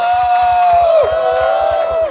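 A church congregation at a morning prayer service cheering and shouting, a loud sustained roar of voices with whoops, over a steady rhythmic beat and a held tone.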